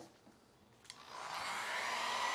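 A blow dryer heats an alcohol ink painting, starting quietly, then whooshing up into a loud steady airflow roar after a soft click, close by and without speech.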